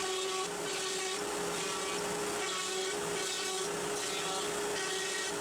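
A CNC router cuts wood in repeated depth passes, giving a steady whining spindle tone over a continuous rough grinding hiss, even and moderately close throughout.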